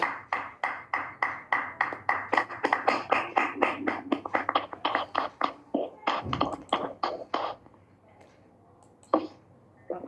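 Rhythmic clapping welcomes Sanjay sir at a gathering: sharp, evenly spaced claps beat steadily for about seven seconds, then thin out and stop, leaving a quiet room with a couple of faint stray sounds.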